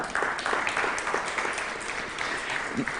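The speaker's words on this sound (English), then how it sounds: "Please applause." An audience at a school sport forum claps steadily for a welcomed guest, a dense wash of applause lasting about three seconds, moderately loud with no speech over it.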